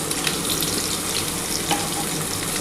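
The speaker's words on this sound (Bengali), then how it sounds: "আলুটার মধ্যে একটু হলুদ, অল্প নুন দিয়ে দেবো, দিয়ে ভাজবো।" Potatoes fry in hot oil with turmeric and salt, giving a loud, dense, continuous sizzle and crackle close at hand, with no talking.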